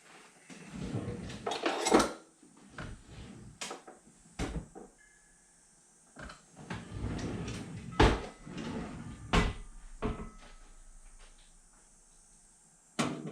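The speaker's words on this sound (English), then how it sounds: "these just punch right out." Metal knockouts are punched out of a ZLINE range hood in a series of sharp metallic clanks and clicks scattered irregularly among quieter handling noises, close and fairly faint, no talking.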